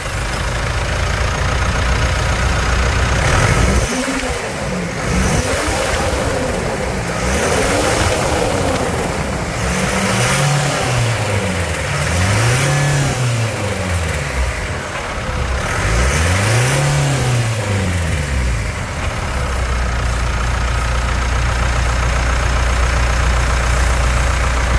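Mitsubishi Triton 2.4 pickup engine revving loudly and close by. It starts from a steady idle, then makes a series of rising and falling rev swells before settling back to idle, with no talking.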